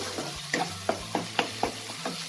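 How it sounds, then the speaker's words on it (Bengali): Masala for egg biryani frying in oil, soft continuous sizzle broken by a series of sharp scraping stirs at an irregular rhythm, close and fairly quiet with no talk. "এবার মশলাটা থেকে যতক্ষণ না তেলটা আলাদা হচ্ছে আমি এটাকে ফ্রাই করব।"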